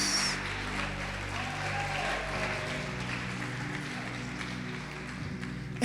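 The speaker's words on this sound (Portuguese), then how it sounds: "Pode aplaudir," A church congregation applauds during a worship service, producing steady, dense clapping that holds at an even level for about six seconds and sounds somewhat distant in a large room.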